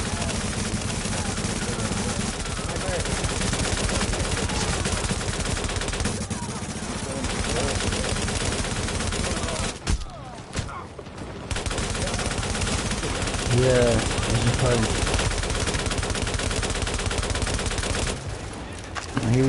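Sustained, loud automatic gunfire from a console shooter game fills the whole stretch in dense, rapid bursts with brief lulls, alongside game dialogue and other game sounds.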